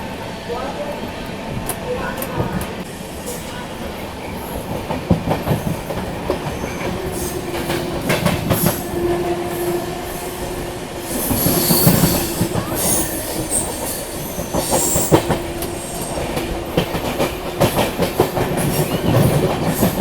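The Himsagar Express rolls through Hazrat Nizamuddin railway station in India, its wheels clattering rhythmically with intermittent metallic squeals, loud and close over a continuous rumble for the whole stretch.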